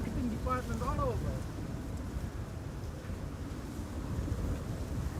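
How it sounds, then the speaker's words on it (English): Wind gusting steadily at Schiphol airport beside the Kaagbaan runway, a broad low rumble buffeting the microphone, with a brief faint tonal sound near the start. "Yeah, the wind's definitely picking up."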